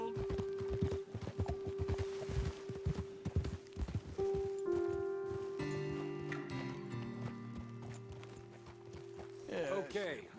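Horses' hooves clip-clop in Red Dead Redemption 2, a quick rhythmic run of hoofbeats that slows and fades, while a musical score swells underneath. A horse snorts or whinnies briefly at the end.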